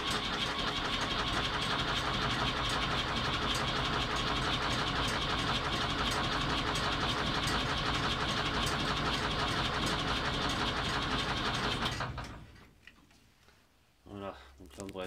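A Ford 550 engine is cranked after an oil change, with a loud, continuous mechanical churning drone for about twelve seconds that cuts off abruptly, followed by a near-quiet stretch and a short voice.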